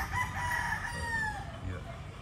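A rooster crows once, a long drawn-out call, fairly close with a bit of background noise.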